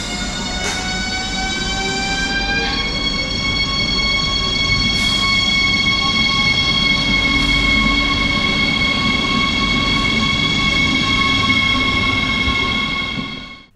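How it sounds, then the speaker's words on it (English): A Desiro HC electric multiple-unit train pulls out of Bamberg station, its motors whining upward in rising tonal steps while a loud steady rumble carries on throughout, close by and with no talk. "now we can listen to and look at the departure of the train in Bamberg"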